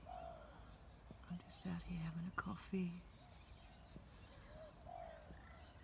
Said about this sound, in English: The birds are beautiful to hear.